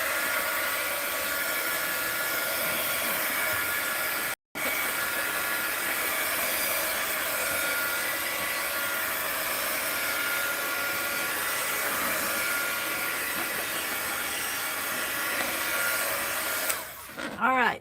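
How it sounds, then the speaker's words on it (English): Heat gun running steadily for a long stretch as a loud, close, continuous fan-and-blower whoosh, broken by one brief cutout and then changing tone near the end, with a bit of talk under it. "Take my heat gun."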